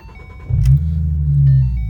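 A 2011 Ford Mustang engine cranks and catches, then settles into a loud, steady low rumble heard from the cabin, with no one speaking.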